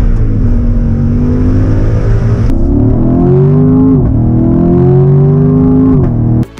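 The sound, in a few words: TRX truck engine revving during test drive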